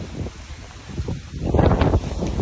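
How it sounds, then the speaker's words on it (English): Gusty wind buffets the microphone with low rumbling bursts, growing stronger toward the end. "it's windy. Fucking windy."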